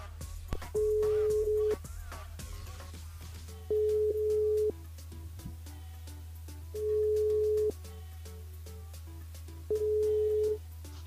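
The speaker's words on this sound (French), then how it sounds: "on appelle Émilie du côté de Saint-Denis" A telephone line rings out as a radio show calls a listener: four long, steady tones separated by pauses, moderately quiet over a constant low hum, with no talking.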